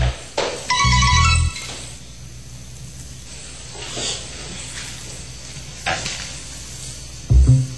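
A telephone rings in a household scene, a short electronic ring burst, with quieter clinks and rustles after it and another brief ring-like burst near the end.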